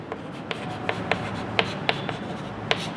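Marker or chalk strokes on a board during a class 11 maths lecture, a string of short, sharp taps and scrapes spaced irregularly, close and clear with no talk over them.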